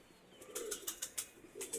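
A pigeon sits close by, giving a quick run of soft flutters and coos in a quiet setting, with no talk.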